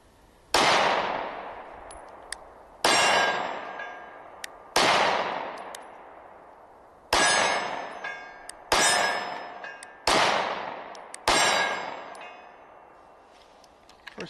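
Several sharp, loud pistol shots from a SIG Sauer P365 SAS at a shooting range, fired singly at irregular intervals of about two seconds, each ringing out with a short echoing decay.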